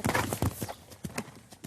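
Horse hooves clip-clopping at a walk over sandy ground in the Fontainebleau forest during a riding lesson, a steady run of soft, fairly close hoofbeats with faint breathing and no speech.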